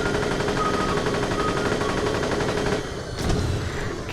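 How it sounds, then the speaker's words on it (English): In the video game Borderlands, a freeze-effect gun fires on full auto in a dense, unbroken rattle of rapid shots that holds steady for about three seconds before easing slightly. "I'm gonna like go full auto and listen to the gun sound"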